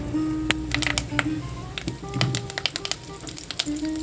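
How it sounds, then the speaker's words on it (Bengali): Two dried chillies, black mustard seeds and a handful of fresh curry leaves hit hot oil left from frying fish, crackling with quick, sharp pops over a continuous sizzle. "এই মাছ ভাজা তেলের মধ্যে দিয়ে দিচ্ছি 2টো শুকনো লঙ্কা, দিচ্ছি কালো সর্ষে, দিয়ে দেবো 1 মুঠো কারিপাতা"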